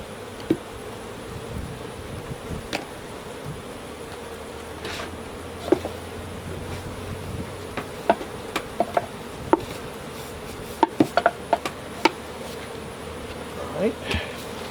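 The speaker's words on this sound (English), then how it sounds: "A lot of bees on this one" A soft, constant drone of many bees buzzing around a hive box during honey harvesting, with scattered clicks and taps of handling mixed in.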